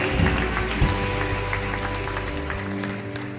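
A church congregation claps during a worship service, with steady, dense applause filling the room alongside sustained music, fading slightly toward the end.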